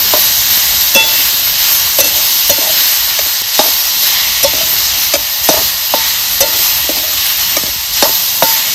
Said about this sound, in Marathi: आता ही लिंब आपल्याला चांगली अशी परतून घ्यायची.